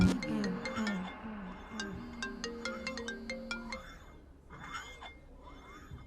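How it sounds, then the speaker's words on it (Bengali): A mobile phone ringtone plays a repeating melodic pattern at moderate volume, then stops and is followed by quieter background rustling. "আগে ফোনটা রিসিভ করো।"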